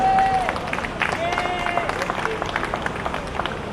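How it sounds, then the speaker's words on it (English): A crowd at an outdoor flag-raising ceremony in Dominica claps and murmurs, a dense, moderately distant spatter of applause that continues for a few seconds. "Folks, a round of applause for Kudme and the Kudme Nation."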